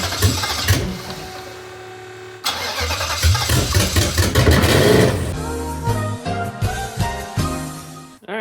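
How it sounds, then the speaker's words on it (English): Turbocharged Nissan VK56 V8 being fired up after a turbo upgrade: a brief crank and catch, then a loud roaring rev that settles into a choppy, pulsing idle with sharp blips, close and without talk. "Then we fired it up to see if it looked like it was still doing what it was supposed to do."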